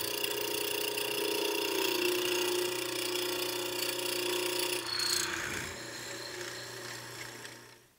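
A hollow chisel mortiser cutting into wood while building a blanket chest, a steady motor hum with a rasping, grinding bite that fades as the chisel lifts, close and without talk.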